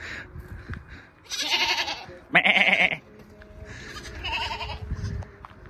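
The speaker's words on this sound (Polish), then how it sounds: "Kozy sobie tutaj jedzą sianko." Goats eating hay near Berastagi, Indonesia, bleat three times in a row, each a loud, wavering cry close by, with quiet rustling and shuffling between calls.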